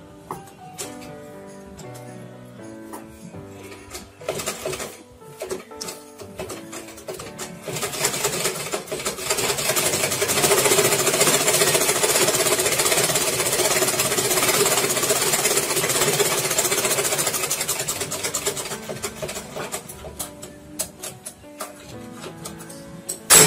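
A sewing machine stitches fabric, with close rapid mechanical whirring that starts in short bursts, settles into a steady run through the middle, then slows into scattered stitches again.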